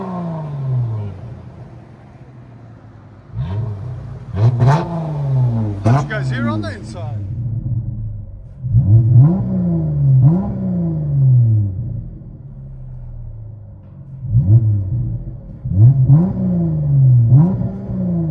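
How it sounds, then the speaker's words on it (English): A 2014 Chrysler 300 S with a 3.6L V6 and Flowmaster Super 10 dual-in, dual-out exhaust with rear delete revs in repeated blips, each rising and falling over a rumbling idle, with a voice speaking between revs. "Flowmaster dual in, dual out, rear delete."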